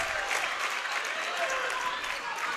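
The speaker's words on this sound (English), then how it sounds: "Some energy in the building now as this Shanley crowd is energized by that 3-pointer from Huber." A high school girls' varsity basketball crowd at a Shanley home game cheers and applauds steadily after a game-tying 3-pointer, a broad, sustained roar filling the gym.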